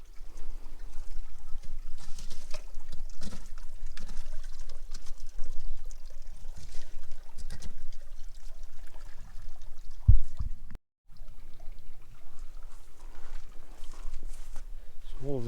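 Rainwater pours and splashes through a nearly blocked drain on rural land after heavy rain, a steady rushing gurgle heard up close under a voice, with a brief cutout midway.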